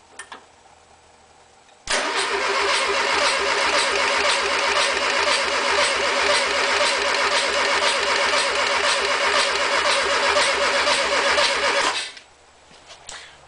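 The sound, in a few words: Volkswagen 1600 engine starting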